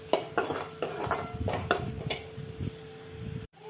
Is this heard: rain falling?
no